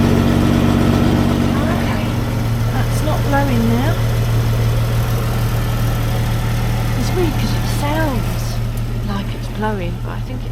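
A Rover P4 engine idles through a newly fitted exhaust muffler, giving a loud, steady low drone with a resonant hum, while people talk over it.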